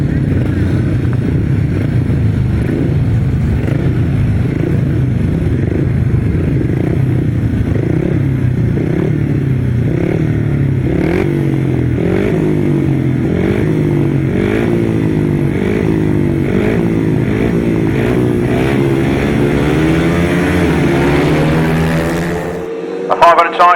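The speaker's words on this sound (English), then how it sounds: "The 500 sidecars are underway." Pack of 500cc sidecar outfits racing on a grasstrack at Frittenden, engines roaring loud and close with rising and falling revs as they power through corners, a continuous pack of overlapping motors, cutting away abruptly at the end.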